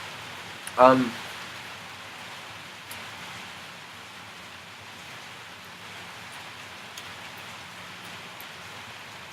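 Steady soft rain falls outdoors as a faint even hiss throughout, with a brief spoken filler sound near the start.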